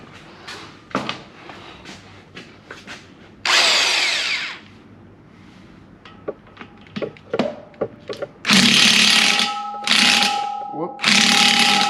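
Bursts of an impact or power tool loosening and pulling the teeth off a Prinoth M450e-900 forestry mulcher drum, loud whirring runs separated by ratcheting clicks and metal clanks, with occasional talk between.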